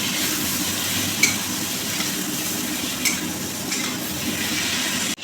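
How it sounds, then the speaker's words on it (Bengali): Spices with green chilli, turmeric and Kashmiri chilli powder sizzle in a pan as they are fried down, a steady hiss broken by a few scraping strokes of the spoon. "সামান্য জল দিয়ে দিয়ে মশলাটা খুব সুন্দর করে কষে নিতে হবে।"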